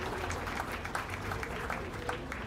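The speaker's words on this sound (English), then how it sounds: "Let's give him a round of applause." A crowd at the Adams County Fair beef show gives a short round of applause, quiet and somewhat distant, the scattered clapping holding steady for under three seconds.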